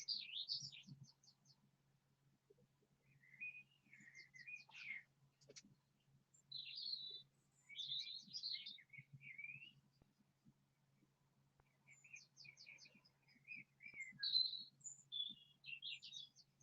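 Many small birds chirp and twitter outdoors in overlapping bursts of high, quick calls, moderately close, with a faint low hum running underneath and no talking.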